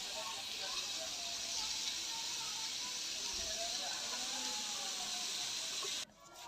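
Vegetables fry slowly in a pan with a soft, even hiss that holds steady and then drops away abruptly near the end.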